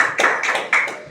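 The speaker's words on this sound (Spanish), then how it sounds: "Denle un aplauso al Señor" Short burst of clapping during a church service, a few claps in uneven rhythm, moderately loud and close, with no voices over it.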